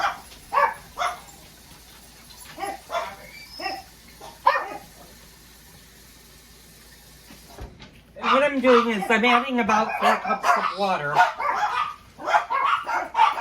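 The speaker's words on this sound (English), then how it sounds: "the dogs are barking" A person speaks calmly at first, then dogs bark and yip repeatedly nearby, loud and overlapping the talking.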